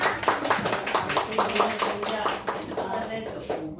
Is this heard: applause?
yes